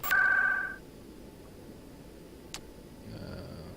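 A phone in the video game Mass Effect rings once in a short, loud electronic burst at the start, then background hum continues with a faint tone later.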